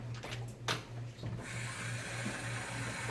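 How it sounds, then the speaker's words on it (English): Water runs from a tap into a jar, a steady hissing pour that swells after a brief start with clicks and a low hum beneath. "I'm going to fill this container, this jar,"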